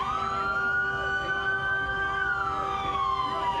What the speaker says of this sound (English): And police and rescue sirens in and around Southwest 8th Street and 109th Avenue.